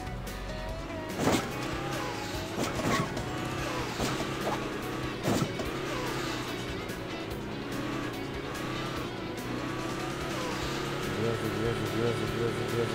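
Jeep engine revving and straining as it struggles uphill over boggy ground in the Hill Climb Racing 2 mobile game, a steady droning whine with occasional bumps and thuds, heard under someone talking.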